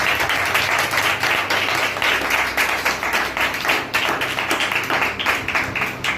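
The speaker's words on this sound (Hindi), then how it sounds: "आइए जोरदार तालियां यीशु के।" Loud congregational applause at a Wednesday church meeting, rapid, continuous clapping from a crowd indoors with sharp individual claps standing out, sustained evenly throughout.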